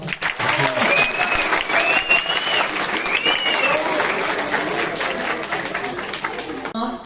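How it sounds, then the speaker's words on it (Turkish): Students and spectators at a school quiz contest clap warmly for the named contestants, the applause lively and fairly near, with a few whistles and murmuring voices mixed in before it fades at the end. "bir alkış alalım."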